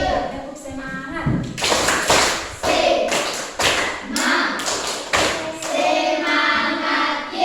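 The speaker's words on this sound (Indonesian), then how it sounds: "Tepuk semangat." A class of Indonesian schoolchildren does the rhythmic "tepuk semangat" clapping chant, with loud hand claps in short patterned bursts close by. Young voices chant along with the claps.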